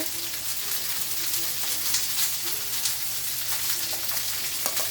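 Pork searing in a hot pan for sauerkraut and pork, a dense loud continuous sizzle heard up close.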